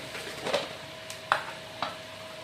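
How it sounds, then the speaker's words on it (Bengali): A spoon mixes spices with yogurt, salt and sugar in a pan for a Bengali prawn curry, making a soft scrape followed by two light clinks against the pan over a faint steady background. "এখন এগুলো ভালো করে একবার মিক্স করে নেব।"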